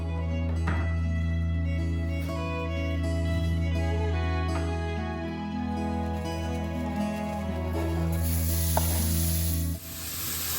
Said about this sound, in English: I'm just browning off the meat here